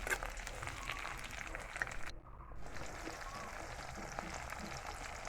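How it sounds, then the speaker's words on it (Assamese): Onion, three green chillies and tomatoes fry in a pan, giving a steady close sizzle with soft stirring scrapes and a brief dropout partway through. "জলকীয়া 3টা দি অকণমান লৰাই লৈছোঁ।"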